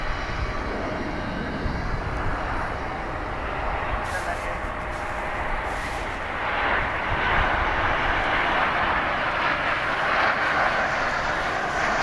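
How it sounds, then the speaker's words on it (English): A fixed-wing airliner takes off from runway 18 at DFW airport, its engine roar a steady, broad rumble that swells louder over the final seconds, with a voice talking over it. "this plane will make a right turn and just kind of take off from the middle of runway 18 right"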